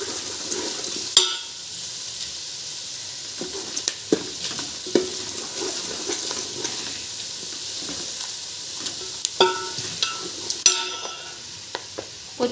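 Onion and garlic fry in a pan with spices and curry leaves, giving a soft sizzle broken by scattered stirring clatters and scrapes, close and moderately loud, with no talking.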